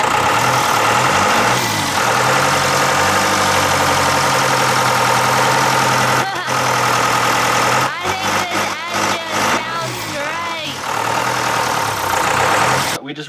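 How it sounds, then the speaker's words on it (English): Catamaran boat engine running at a steady idle with a rough, knocking drone, while people talk over it and the engine note dips and wavers near the end. "We just ran the engine again and it's really sweet"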